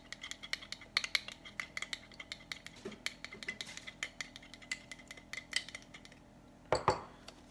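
Garlic butter being mixed in a bowl with a utensil, giving a run of quick clinks and taps against the dish, fairly quiet and close, ending in a louder scrape-and-clatter burst near the end.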